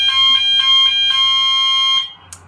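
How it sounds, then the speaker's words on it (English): A building fire alarm blares loud and close in a rapid repeating electronic tone for about two seconds, then cuts off, leaving a faint click. "sorry, that's the fire alarm in the building."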